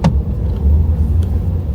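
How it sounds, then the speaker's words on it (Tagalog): Road traffic with passing cars on a sunny day, a steady low engine rumble close by with a brief swell as one vehicle goes past, no talk over it. "Traffic."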